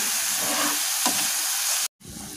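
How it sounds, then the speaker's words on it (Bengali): Bengali-style masala spice paste fries in oil for an egg omelette curry with a close, continuous hissing sizzle that drops out briefly near the end before resuming. "দেখুন খুব সুন্দরভাবে আমাদের মশলাটা কষা হয়ে গেছে, তেল বেরিয়েছে।"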